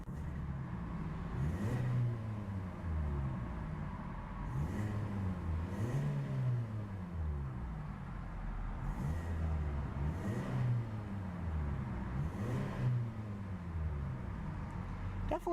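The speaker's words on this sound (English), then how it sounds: "Definitely a very racy engine note to that little power plant." The small engine of a 2014 Hyundai Elantra Sport revs repeatedly, rising and falling in about six sweeping cycles a couple of seconds apart. Each rev is clear and close over a steady road hiss.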